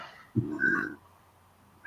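A cat gives a single short meow, moderately close, followed by quiet, with the start of another sound at the very end.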